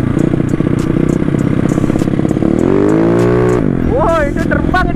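A Yamaha Mio scooter tuned for racing revs loudly and close, with a sharp stuttering blip, then a long rising rev that cuts off, before a short squealing burst; someone speaks over the engine.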